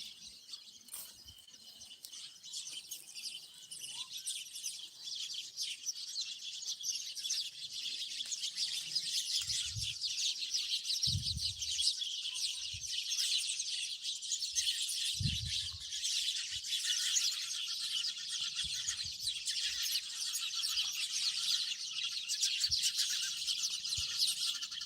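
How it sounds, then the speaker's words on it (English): Many birds chirp and twitter continuously in a dense, high chorus, with a few low thumps and rustles underneath. "Now you can see there is many birds, and also you can hear an attractive sound there."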